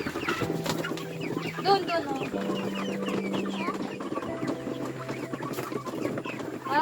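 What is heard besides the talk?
free range chickens clucking while being fed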